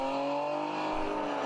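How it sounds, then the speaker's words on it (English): A BMW-powered endurance race car in a ChampCar Endurance Series event howls steadily at high revs while warming its brakes, a loud continuous engine drone with layered harmonic tones. "You can hear that BMW engine howling away as he's warming up the brakes"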